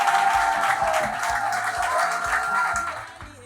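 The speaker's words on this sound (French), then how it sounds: "à chaque fois que je vais citer les noms, vous applaudissez très très fort" Crowd at a political party gathering claps fairly loudly for a few seconds, a steady patter over low hum, then fades out toward the end.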